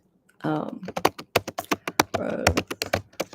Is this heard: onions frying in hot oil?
no